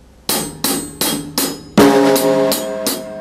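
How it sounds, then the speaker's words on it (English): A short drum pattern: a few crisp hits, then a heavier combined hi-hat and snare hit with a ringing tone, followed by steady rhythmic strikes. "you would be playing the hi-hat and the snare drum at the same time"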